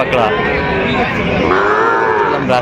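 A young Sahiwal bull calf moos loudly and close at a cattle market in Dinajpur, one long drawn-out bellow that wavers in pitch and nearly fills the moment.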